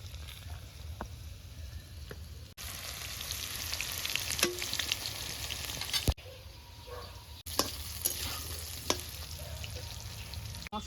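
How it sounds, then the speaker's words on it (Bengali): Kuche eel pieces being mixed by hand with a spice paste of ground onion, ginger-garlic paste, salt and turmeric, giving a steady, close, wet squishing and stirring with a few brief pauses. "মশলা দিয়ে কুচে মাছগুলোকে এবার মেখে নিলাম।"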